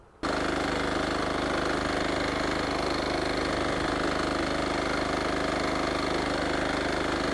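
A mini weeder power tiller from Sharp Garuda starts up and runs continuously, a loud steady engine drone filling the clip from just after the start, close by with no voices.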